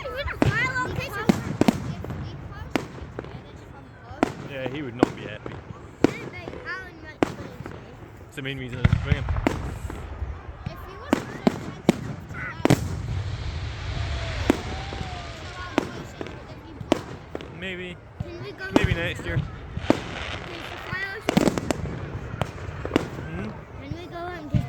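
Bonfire Night fireworks in Elgin pop and crack repeatedly overhead, a dense irregular barrage of sharp bursts over steady crowd murmur, with people talking close by throughout.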